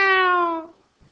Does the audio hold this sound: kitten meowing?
yes